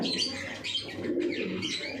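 A pair of Royal Teddy pigeons coo softly and repeatedly, close by, amid faint chirps and a low background hum, with no one speaking.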